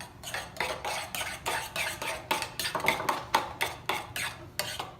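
A spoon stirs a warm mustard seed relish in a pan, scraping and clicking in a steady, fast rhythm of repeated strokes, close and fairly loud, with no talking.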